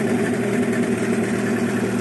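A 15 hp outboard boat engine runs steadily just after a pull start, a loud, even mid-pitched drone held close up without pause and with no talk over it.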